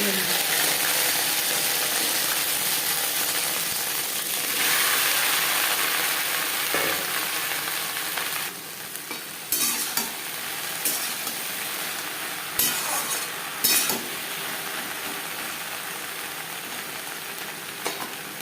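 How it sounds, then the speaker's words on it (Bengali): Whole cumin seeds sizzle steadily in three spoons of hot refined oil for a vegetarian okra fry, a close, continuous crackling hiss with a few light stirring clicks and scrapes toward the end. "তিন চামচ রিফাইন্ড অয়েল গরম করে নেওয়ার পর দিয়ে দিলাম গোটা জিরে পনেরো কুড়ি সেকেন্ড ভেজে নেওয়ার পর"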